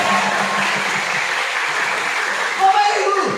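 Church congregation at an evening youth revival service applauding, a steady wash of clapping throughout with a preacher's voice talking over it.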